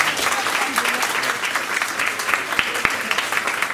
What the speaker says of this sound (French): c'est l'applaudir très fort